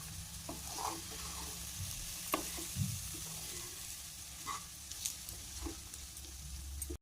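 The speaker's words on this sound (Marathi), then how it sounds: "अगदी हलक्या हातानं या ठिकाणी पोहे या मिश्रणामध्ये मिक्स करून घ्यायचे आहेत" Flattened rice poha is gently folded into a sizzling mixture in a pan, giving a soft, continuous frying hiss with occasional scraping and stirring knocks from a spoon, close and fairly quiet.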